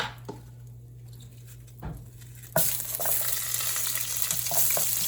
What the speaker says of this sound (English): we'll stir this around, and we're going to start breaking up those onions in it